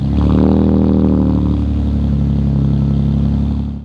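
A car engine with a Carven aftermarket exhaust rumbles with a deep, throaty tone heard from inside, steady cruising with a slight rev early on.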